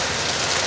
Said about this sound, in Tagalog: Grabe, ang lakas ng ulan na dito ah.